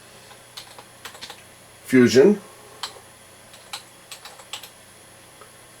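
Typing on a computer keyboard plugged into a Raspberry Pi, scattered light key clicks at an irregular pace, with a brief spoken word breaking in partway through.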